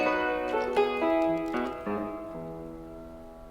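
Early domestic piano with a damper pedal, played as a slow succession of bright, ringing notes and chords that sustain and overlap before gradually decaying; close and moderately soft, with no voices.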